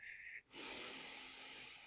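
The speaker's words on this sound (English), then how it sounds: "Breathe out, focusing on breathing out." A single long exhalation follows a short hiss, a soft, close, steady stream of breath fading slowly, done as a slow breathing-out exercise for stuttering.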